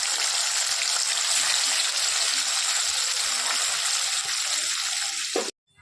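Rohu fish pieces fry in hot oil in an iron kadai, a loud, dense, continuous sizzle heard up close that cuts off abruptly near the end, with no voices.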